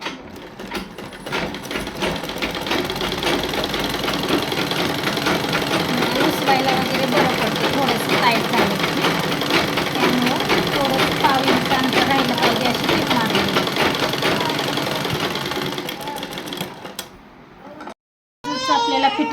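A sewing machine stitching a dress seam, with the lock stitch and reverse stitching: a steady, rapid mechanical whirr running for most of the clip, briefly stopping near the end before starting again, with someone talking over it.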